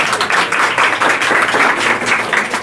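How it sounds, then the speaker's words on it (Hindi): Loud, dense applause from an audience honoring a student at a class 10th and 12th award ceremony, continuous clapping that fills the room throughout. "के लिए एक बार जोरदार ताली हो जाए।"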